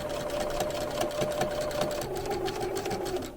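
Sewing machine stitching 3/8 chenille strips flat, a loud, close, steady rapid chatter of needle strokes that keeps running throughout with a slight drop in pitch near the end.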